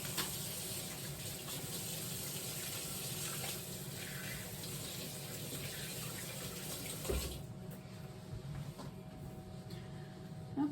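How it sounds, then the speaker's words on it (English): Tap water runs steadily into a sink while hands are washed in a home kitchen during chicken pot pie prep, a continuous close hiss that thins out partway through. "I'm just gonna wash my hands really quick"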